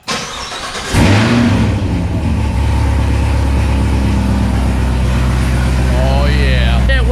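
A Corvette ZR1's engine fires up at about one second and then holds a loud, steady, deep rumble close by, with a brief rising blip near the end.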